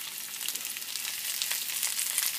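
Onions frying in a pan with beef steaks, a soft continuous crackling sizzle at moderate distance, steady and even with no talking.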